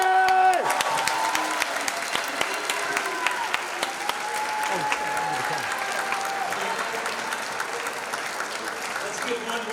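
Sustained audience applause for the ten contestants at a Mr. BHS 2022 pageant, a dense steady wash of many hands clapping throughout with a few sharper claps and some voices mixed in.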